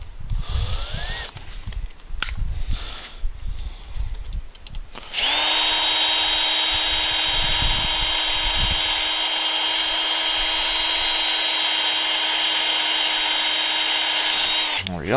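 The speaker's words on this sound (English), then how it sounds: "I'm gonna pre-drill the hole" A power drill whines steadily and loudly for about ten seconds, pre-drilling a hole to anchor a gazebo to a deck, after a few seconds of handling noise and clatter.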